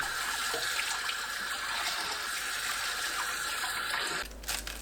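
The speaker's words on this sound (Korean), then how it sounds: "고등어 넣고 5분 담가둡니다. 헹궈서 체에 받쳐두세요." Running tap water pours steadily while mackerel, just soaked in salted rice water, is rinsed before draining in a sieve; the broadband splashing holds constant and cuts off near the end, with no talking.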